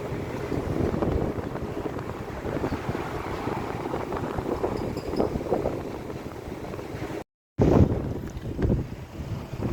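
Strong wind buffeting the microphone at a hilltop rest area near Izmir, Turkey, a loud continuous roaring rush with gusty surges, cut by a brief dropout, with no voices.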